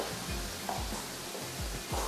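Oil sizzles in a pan for tadka tempering in a home kitchen, a steady frying hiss broken by soft scraping strokes of stirring at a regular pace, close by and with no talk.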